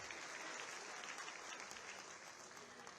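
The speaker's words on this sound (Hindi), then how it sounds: "आप सभी जोरदार तालियां मंच तक पहुंचाएं" Crowd applause for the chief minister at a public event, a broad, even rush of clapping from a large audience, heard at a distance and fairly faint but sustained throughout.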